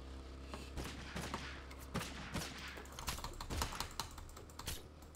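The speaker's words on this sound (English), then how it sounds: "They're shooting at us." Faint bursts of gunfire from the video game Totally Accurate Battlegrounds, heard as rapid clustered cracks mixed with busy computer keyboard clatter at low volume.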